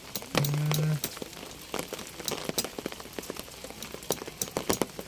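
Steady patter of rain drumming on a roof, with scattered louder drops and a brief low hum near the start; no voices.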